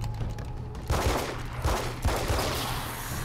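Several gunshots fired at enemies in Alan Wake's American Nightmare, punchy low thuds spaced irregularly over steady background game ambience.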